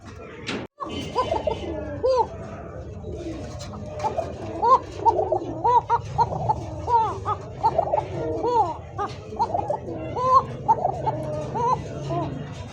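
Male and female Koka pigeons coo repeatedly, their soft, throaty rolling calls overlapping in a steady rhythm close by, with a brief thump near the start.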